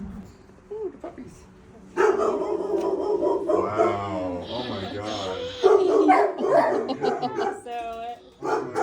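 Shelter puppies bark and yip in short bursts through a busy kennel room, mixed with excited talking from people nearby.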